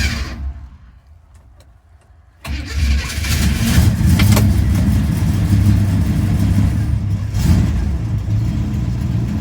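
A 1964 Buick LeSabre V8 with an unadjusted carburetor cranks and catches after a quiet pause, then runs loud and close with a rough idle and a few blips of throttle.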